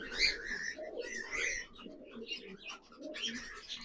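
Pigeons in a loft of racing birds coo and call close by in repeated throaty bursts, with short gaps and light rustling between them.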